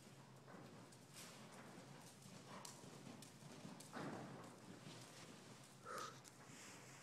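Horse cantering on soft ground, a faint rhythmic run of hoofbeats heard from some distance, with a quiet snort or two near the end.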